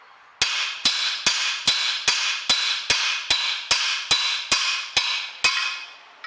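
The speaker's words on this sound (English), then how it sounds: "I'm only holding the hammer more than halfway up, so I'm not hitting this hard at all" A hammer strikes a stub axle on a 2008 Ford Mondeo fourteen times in an even, quick rhythm, each ringing clang close and bright, fading slightly before the next blow.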